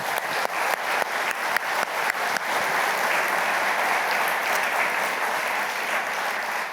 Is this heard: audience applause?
yes